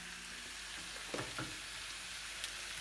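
Dry peppers being roasted and stirred in a pan give off a soft, steady sizzle, with a couple of brief scraping strokes near the middle and a faint tap toward the end.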